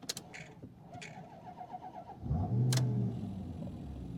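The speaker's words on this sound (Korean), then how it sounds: "시동을 한번 걸어 보겠습니다" A Maserati Quattroporte M139 engine cranks and catches after a jump start, a short starter whir followed by a rising low rumble that settles into a steady idle, heard up close.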